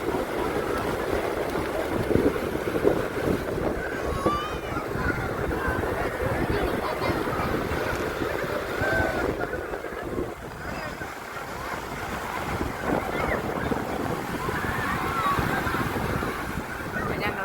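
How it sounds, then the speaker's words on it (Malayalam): Sea waves at Cherai beach make a continuous broad roar, with wind buffeting the microphone and a busy beach crowd chattering throughout. "കടലിൽ തിരകൾ ഇങ്ങോട്ട് കയറി കയറി വരികയുണ്ട"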